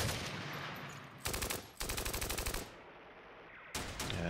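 Rapid machine-gun bursts in the war strategy game Steel Panthers, set in a 1980 Iran-Iraq war battle, rattling in dense rhythmic volleys separated by brief pauses, fairly faint overall.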